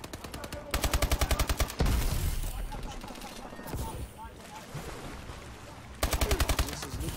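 Gunfire in a competitive shooter match: bursts of rapid automatic shots open and close the stretch, with a busy, softer game-sound middle and an announcer talking over it.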